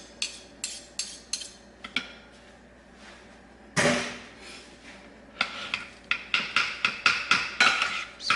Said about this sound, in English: And I'm going to stir this up.